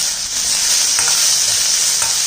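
Chopped capsicum and onion frying in a pan while being stirred, a bright continuous sizzle close up with soft scraping stir sounds, no talking.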